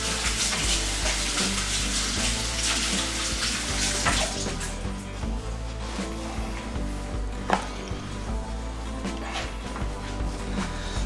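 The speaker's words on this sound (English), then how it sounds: "Rinse off my hands real quick." Running tap water splashes steadily over hands in a sink as they are rinsed, a continuous close hiss with small bumps, before pork shoulder is seasoned for smoking.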